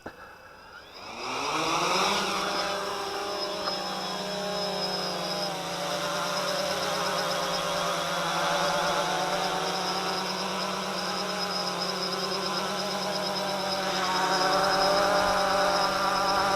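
A WLToys V303 GPS quadcopter drone spins up and flies. Its rotors rise from a quiet start into a loud, steady, high-pitched whine that holds for the rest of the clip with small shifts in pitch.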